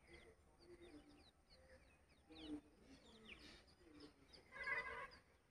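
Small birds chirp in scattered, overlapping calls outside a temple, with devotional chanting of Govinda names drifting faintly underneath; a brighter burst of calls swells near the end.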